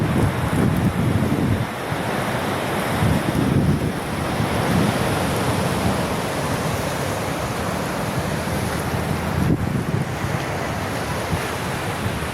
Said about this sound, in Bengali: ঢেউয়ের ওপর ঢেউ